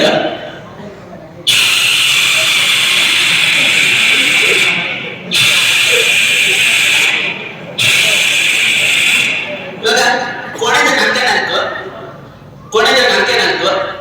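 A performer's voice imitates an old steam train, with loud hissing chuffs in long bursts separated by short pauses, close and strong, then quicker broken puffs before a final hiss.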